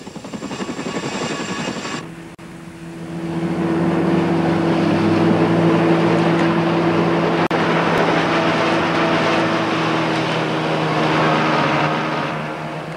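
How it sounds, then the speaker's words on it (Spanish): A steady motor drone of a military commando exercise rises after a brief quieter start, as an inflatable boat is launched for a landing, sustained and fairly loud with broadband rushing noise over it. "Primero se lanza una lancha neumática que los hombres usarán para llegar a tierra."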